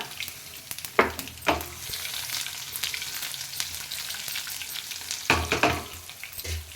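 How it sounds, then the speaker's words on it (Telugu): Crushed garlic sizzles steadily in hot oil for a tempering, a constant close crackle broken by a few sharp clinks and scrapes of stirring. "ఇప్పుడు తాలింపులోను కూడా వేస్తున్నాను వెల్లుల్లిపాయ"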